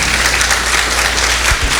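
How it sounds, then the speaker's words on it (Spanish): A church congregation claps in praise during a sermon, a dense, loud, steady burst of applause with no pauses. "Dele una alabanza de palmas a Dios por esto."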